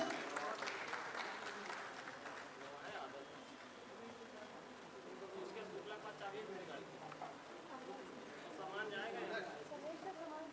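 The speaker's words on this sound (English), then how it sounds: "Please give them a great round of applause." Audience applause at a pharmacology association's annual conference, a steady broad patter of clapping that holds for about ten seconds at moderate level, swelling slightly near the end.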